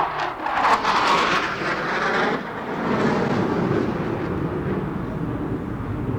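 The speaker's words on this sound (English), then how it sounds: "Now there's a new Top Gun, a sleek jet fighter that's making its own record in the annals of naval aviation history." A McDonnell Douglas F-18A Hornet navy jet fighter flies at an air show, giving a loud, continuous broadband roar that holds steady for several seconds with no voices.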